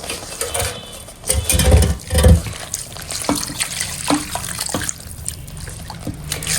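Water poured into a fish curry in a cooking pan, giving a steady trickling, splashing flow with a couple of louder gushes early on, close by and without talk.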